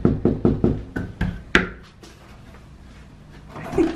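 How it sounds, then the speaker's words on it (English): A front door knocked on by hand, about eight quick, close, loud wooden raps in an uneven series, followed by a quiet pause. "Go to the front door. You gonna knock on it?"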